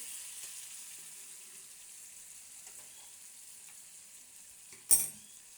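Katla fish head and potatoes frying in oil in a covered pan give a steady, soft sizzle throughout, with a single sharp clank near the end.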